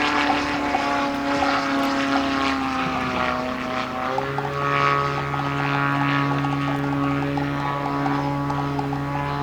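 A Yak 54 scale model airplane performs aerobatics at an air festival display, its propeller engine droning loudly and steadily with a pitch that shifts midway as the aircraft manoeuvres.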